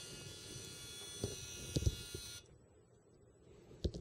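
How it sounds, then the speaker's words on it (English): A relay wired as a relaxation oscillator buzzes steadily with a harsh, rapid electrical drone, then cuts off abruptly midway, leaving faint background hiss and a few small clicks. "that of course causes it to oscillate quite rapidly"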